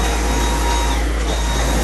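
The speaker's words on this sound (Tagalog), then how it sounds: "Dala ko yung vacuum na aking Dyson." A Dyson vacuum cleaner runs steadily indoors in a condo, a loud continuous motor whir and airflow hiss filling the whole moment without pause.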